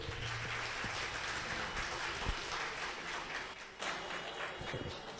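Audience clapping for themselves at a diabetes seminar, a dense, continuous patter of many hands at moderate distance, holding steady for several seconds with a brief dip near the end.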